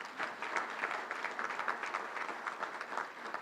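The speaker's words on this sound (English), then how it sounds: "let's give all of our sponsors a great round of applause" Audience applause at a Little Rock Touchdown Club luncheon, a steady dense patter of many hands clapping, moderately distant and continuous throughout.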